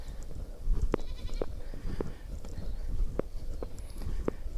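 Goats on a farm in the morning give several short, separate bleats, some near and some farther off, over a low background rustle and a few soft hoof-like knocks.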